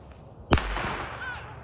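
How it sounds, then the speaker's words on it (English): A firework goes off with a single sharp, loud bang followed by a brief crackling hiss that fades out. "So this is how you safely light a firework."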